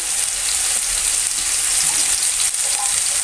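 Thinly sliced potatoes sauté in hot oil, giving a continuous close, bright sizzle with faint stirring scrapes throughout.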